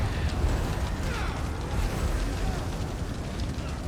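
Fire in a video game roars as a dense, continuous rumbling crackle with bursts of deeper booms, loud and close throughout.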